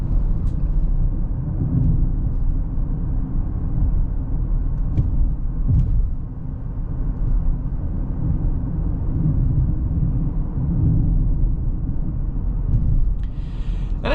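A 2026 Nissan Rogue on 17-inch wheels rolls over a bumpy road, its steady low engine hum and tire rumble heard from inside the cabin, with a few soft thumps and knocks from the bumps and no talking.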